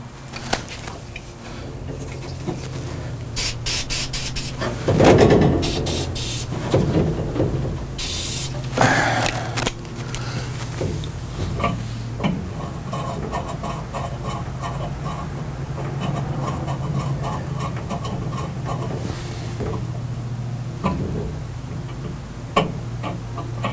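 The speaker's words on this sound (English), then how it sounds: "I'm gonna take some deoxit and spray it on the pot and just kind of work it back and forth" DeoxIT contact cleaner sprayed onto a potentiometer in a Computer Space Ball arcade machine, then the pot worked back and forth: a few short spray hisses near the start, then small scratchy clicks and ticks over a steady low electrical hum.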